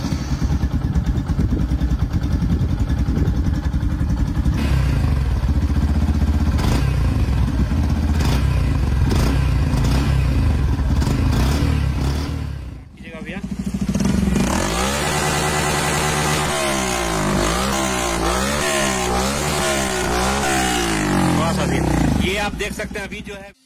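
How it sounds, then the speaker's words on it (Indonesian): A Yamaha FZX retro motorcycle's exhaust, close and loud, with a steady engine run that breaks briefly before rising revs and wavering throttle blips. "Langsung aja kita dengerin suara knalpot dari Yamaha FZX."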